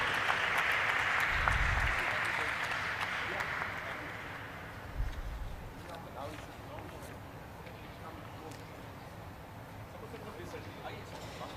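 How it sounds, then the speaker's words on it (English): Applause from the audience at a stock exchange listing ceremony for Vibhor Steel Tubes Limited. A broad wash of clapping is strongest over the first few seconds, then thins and fades beneath background murmur and some speech. "A round of applause for Vibhor Steel Tubes Limited."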